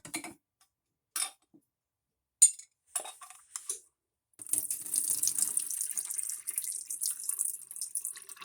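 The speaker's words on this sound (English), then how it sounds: "Let's go ahead and drain the cactus." Pre-cut cactus drained in a kitchen sink: a few short clinks and knocks, then a steady close splash of water running and pouring for several seconds.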